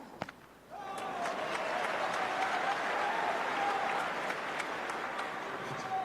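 A Wimbledon tennis crowd at a Sinner versus Djokovic final breaks into applause after a brief lull. The clapping swells abruptly and holds as a dense, steady roar of many hands until the end.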